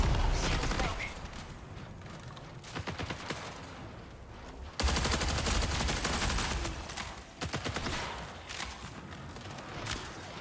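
Rapid gunfire in the online shooter Marathon: bursts of automatic fire crackle in fast runs, stopping and restarting in clusters, with a sharp loud burst midway, mixed with clanking game sounds and a voice speaking at times.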